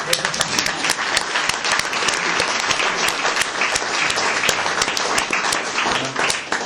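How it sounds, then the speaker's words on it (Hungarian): Sustained audience applause filling a hall after a talk about a mission trip to Pakistan, dense steady clapping from many hands with no voices above it, loud and continuous throughout. "Nyugodtan lehet tapsolni."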